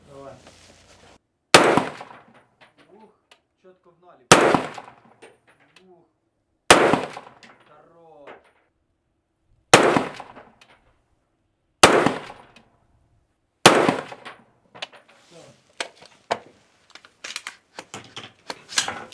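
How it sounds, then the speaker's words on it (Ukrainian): Rifle shots from a Heckler & Koch MR308 with a 13-inch barrel ring out one at a time at a steady pace on a shooting range, six sharp loud cracks with echoing tails, followed by faint speech between them. "Тільки що ми стрельнули з Хеклера МР308 13 дюймів ствол"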